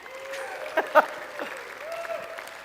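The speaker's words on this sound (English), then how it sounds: "Give yourselves a round of applause" Light applause from a small lecture audience, a few sharper claps near the start, with a faint steady tone underneath.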